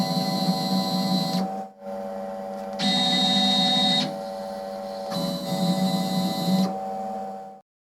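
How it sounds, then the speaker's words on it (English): Stepper-driven axes of a Boxford CNC lathe jog under motor control, giving a steady electrical whine with tonal hum that rises in three bursts of movement and drops back between them, close and fairly loud, no voices. "I was first able to get each axis to jog around using either the touchscreen or the panel buttons"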